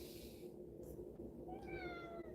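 A cat meows clearly, a couple of short rising calls close by against quiet room noise, with no one speaking over it.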